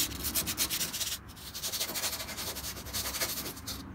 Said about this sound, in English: So we'll be sanding it down.